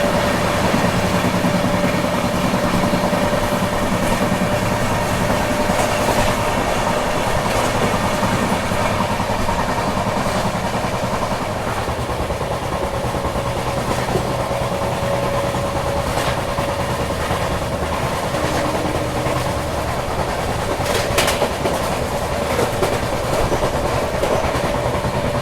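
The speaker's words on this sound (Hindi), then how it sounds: "क्या जबरदस्त भाग रही है अपनी गाड़ी" Sampark Kranti Express running fast non-stop past Borivali, a continuous loud roar of rolling wheels and rattling carriages with repeated clickety-clack over rail joints, heard from inside the train.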